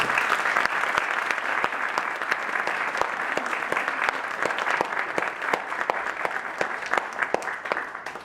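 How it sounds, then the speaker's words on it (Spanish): Sustained applause from a seated audience at a formal judicial conference on criminal law, loud and steady with dense clapping throughout and sharper individual claps standing out, with no voices over it. "Les pido un fuerte aplauso para ellos."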